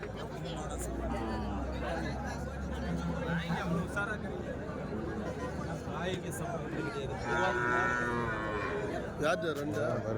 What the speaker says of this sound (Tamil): இது காளை கண்ணுக்குட்டி தாங்க ரெண்டும்